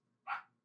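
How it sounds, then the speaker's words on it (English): A single short bark from a dog in another room, muffled and fairly faint, standing alone against quiet background. "sorry for the barking dog in the other room"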